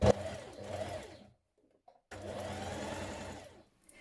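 A sewing machine stitches along the top of a shirt pocket during shirt construction, running in two close, steady bursts of humming needle motion separated by a short pause.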